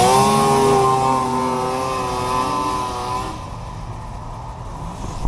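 A vintage Polaris XLT 600 triple snowmobile engine revs loud and close, holding a high, buzzing tone for a few seconds before it drops off and fades into a rougher, lower idle.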